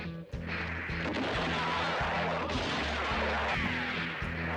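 Rapid volleys of gunfire from a Western film shootout at a ranch house, loud and continuous, with repeated sharp cracks layered over a pounding low-end rhythm, likely a music score.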